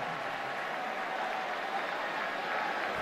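Stadium crowd at a Texas versus Baylor college football game applauding and cheering after a big tackle, a steady, broad wash of distant clapping and crowd noise that holds evenly throughout.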